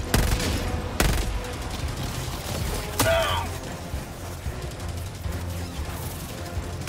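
An automated turret firing at enemies in Helldivers 2, with sharp loud blasts near the start and around three seconds, followed by a rumbling, clattering battle din and a brief rising mechanical whine.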